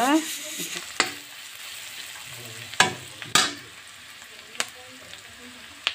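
Ginger-garlic paste, onion, panch phoron, bay leaf and cumin powder sizzle loudly in a pan while a jackfruit dish is being made, with intermittent sharp clatters of a spoon stirring against the pan.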